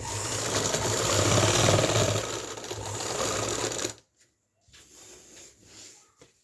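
A sewing machine runs steadily and loudly as it stitches right along the hem edge of a salwar ankle cuff, then stops abruptly, leaving a few faint handling sounds.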